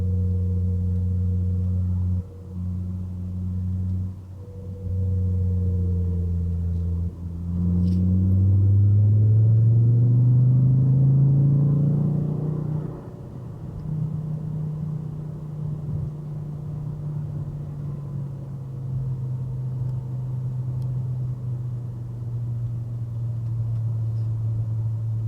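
Steady low engine and road rumble from a car driving behind a Porsche, with a brief rise in engine pitch as it accelerates mid-way, then settling into an even cruising drone.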